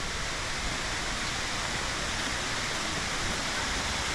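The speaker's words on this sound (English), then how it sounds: "I do believe this is the bottom of the waterfall" Rushing water pours steadily at the bottom of Na Mueang Waterfall on Koh Samui, a loud, unbroken broadband roar with no pauses or other sounds standing out.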